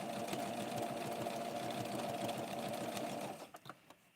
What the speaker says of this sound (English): How many of you like the sound of a sewing machine?